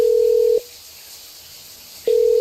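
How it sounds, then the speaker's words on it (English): A steady, loud telephone tone sounds as the phone is hung up, cutting off abruptly, then returning after a pause of about one and a half seconds. "Hold on, I'm hanging up the phone."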